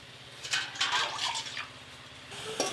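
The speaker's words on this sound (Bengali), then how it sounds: "এই পিঠেটা ভাপানোর জন্য কড়াই জল দিয়ে দেব" Water is poured into a wok to set up steaming for pitha, a short splashing fill in a few bursts at moderate, close level, with a brief trickle near the end and no speech.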